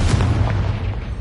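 A Confringo blasting spell explodes in the video game Hogwarts Legacy, a loud, dense boom with heavy low rumble that lingers through a short burst.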